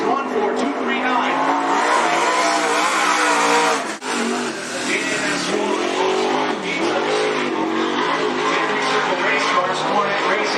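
Late model race cars at Cottage Grove Speedway, loud engines revving and roaring continuously with a brief dip, while an announcer talks over the racing.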